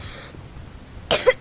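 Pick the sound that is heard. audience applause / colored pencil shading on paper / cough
cough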